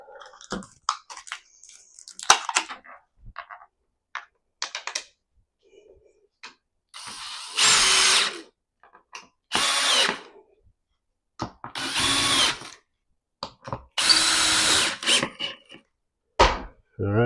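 A power drill drives bolts during office chair assembly, running in several loud bursts of a few seconds each, separated by quieter handling clicks and clatter of parts.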